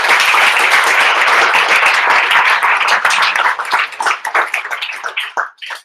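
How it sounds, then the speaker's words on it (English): Applause from an audience in a room after a talk on crypto is loud and dense at first, then thins into scattered individual claps as it fades out. "let's give applause for the"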